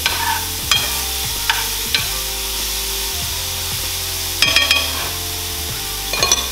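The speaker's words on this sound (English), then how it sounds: "While that's frying, we're gonna add a little bit of salt." Steady sizzle of food frying in a pan, with a utensil stirring and scraping at intervals and a few louder clanks.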